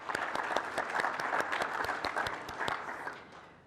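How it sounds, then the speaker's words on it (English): Audience applause at an annual summer benefit barbecue, crisp individual claps from a modest crowd that hold steady, then thin out and fade away over the last second. "Applause again."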